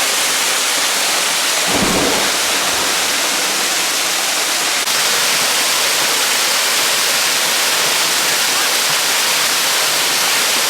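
Sand Run Falls in Tioga State Park, a constant loud, close rushing roar of falling water with a brief low thump early on and no talking.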